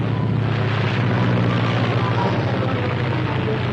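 A propeller plane drones steadily overhead, a loud continuous engine hum with a low throbbing beat and no letup.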